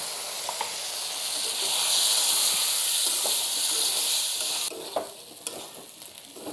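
Meat goes into a hot pan with frying onions, setting off a loud, close sizzle that swells to a steady hiss, then drops back to a quieter crackle with a few stirring scrapes.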